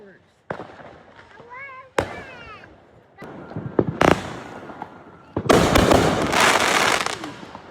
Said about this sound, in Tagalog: That's fireworks.